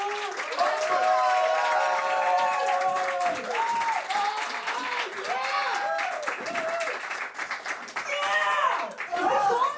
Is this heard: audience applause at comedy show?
yes